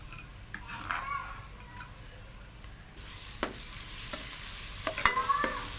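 Ground garlic, ginger and green chilies hit hot oil with onions in a pan while cooking a white bean lobia masala curry, giving a soft steady sizzle with stirring scrapes and a few utensil clinks, close and fairly quiet.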